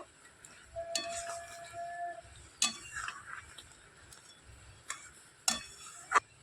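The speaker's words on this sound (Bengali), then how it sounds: "এবার একটু হালকা হাতে নাড়াচাড়া করে মিশিয়ে নেবো" Mango pickle being gently stirred with a ready ground spice mix in syrup, producing soft scraping and occasional light clinks of a spoon against the pot, quiet and close with long gaps between strokes.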